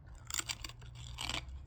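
Crunchy Hot 'N Spicy muruku snack being chewed close up: two short bursts of crisp, brittle crunching over a low hum, with no talk.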